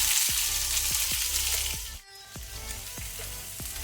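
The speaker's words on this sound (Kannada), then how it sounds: "ಈಗ 2 ಮೀಡಿಯಂ ಸೈಜ್ ಈರುಳ್ಳಿಯನ್ನು ಸಹ ಸಣ್ಣಕ್ಕೆ ತುಂಡು ಮಾಡಿ ಹಾಕ್ಕೊಳ್ತೇನೆ." Chopped onions sizzling over low flame in a pan, a dense steady frying hiss with regular soft knocks from stirring, briefly dropping out before resuming.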